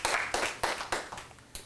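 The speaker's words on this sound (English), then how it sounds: "Would you please curtail your clapping, or I will dismiss you from the meeting." An audience claps at a school board meeting. Several sharp bursts of hand claps come in quick succession, close and fairly loud, with no voices over them.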